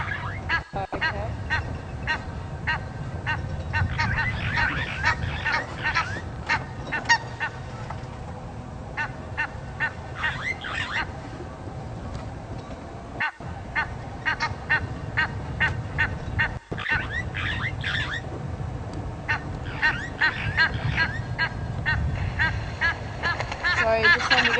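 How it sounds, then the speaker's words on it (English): Egyptian geese honk and squabble repeatedly outdoors at close to middle distance, with harsh overlapping calls coming in busy bursts while people talk quietly through the noise. "I'm just wondering if there's a lot of noise coming from the Egyptian geese"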